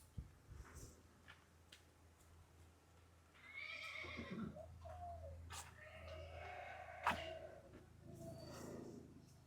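A mare of mixed Kathiawari and Marwari breed whinnies twice as she is led, with faint hoof clops and bird coos in the quiet background and no talk.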